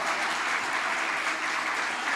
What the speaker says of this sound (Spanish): ¿Alguien no se avergüenza del Evangelio y le da un aplauso al Cristo de la gloria